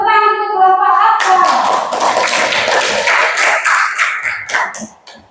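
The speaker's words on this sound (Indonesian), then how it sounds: "Tepuk tangan untuk kelompok apa?" Students in a classroom clap for a presenting group, a burst of dense hand claps starting after a brief spoken line and tapering off toward the end, close and loud.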